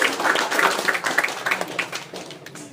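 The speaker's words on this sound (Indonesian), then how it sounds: "Tepuk tangan dong." Listeners at a startup showcase roadshow in Balikpapan clap for a presenting startup; scattered, moderately loud hand claps with uneven rhythm, thinning out and fading toward the end.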